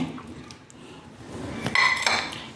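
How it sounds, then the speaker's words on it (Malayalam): Lemon pieces for a curry lemon pickle dropped into a vessel, giving quiet rustling followed by a few light clinks and knocks against the container, close and without talk. "അപ്പോൾ ഇതൊരു പാത്രത്തിലോട്ട് ഞാൻ ഇടുവാണേ."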